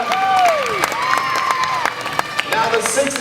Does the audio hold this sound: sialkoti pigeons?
no